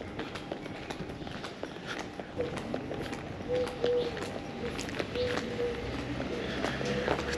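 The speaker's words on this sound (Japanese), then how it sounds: "なんか俺の足音が響いてる気がする。" Footsteps echo along a cobblestone street in Beaune, Burgundy, with a steady walking rhythm of light, close taps over a faint outdoor background.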